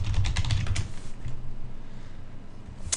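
Rapid keystrokes on a computer keyboard, a quick burst of clicking taps at close range that thins out into scattered faint presses, with no voices.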